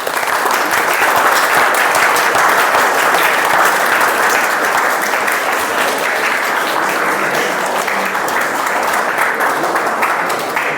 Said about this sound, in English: give me a grand hands of applause